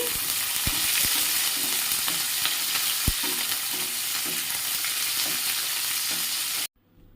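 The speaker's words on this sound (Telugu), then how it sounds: "నేనైతే ఒకటి తీసుకున్నాను పెద్ద సైజు ఆనియను ఇవన్నీ కొద్దిగా వేగాలి" Onions sizzle and fry steadily in a pan for bagara rice, a continuous close crackle with a few sharp stirring knocks, ending abruptly in silence.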